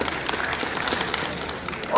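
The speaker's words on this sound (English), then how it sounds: "Round of applause for him." Steady applause from an audience at a town hall meeting at a university, a dense wash of clapping that swells slightly at the end.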